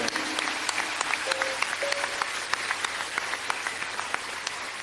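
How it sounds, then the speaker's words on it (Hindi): Audience at a Swarved religious gathering applauding with steady, dense clapping and a few sharper individual claps, moderately distant, with a faint voice sustaining a note. "सभी एक दूसरे के उत्साहवर्धन में तालियों की गड़गड़ाहट।"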